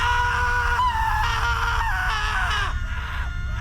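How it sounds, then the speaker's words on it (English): Shrill, sustained screams and wails ring out at midnight, a loud, dense cacophony of several overlapping voices that rise and fall without pause for a few seconds over a heavy low rumble. "The screams rang out at midnight, a deafening cacophony of wails sustained for a few seconds"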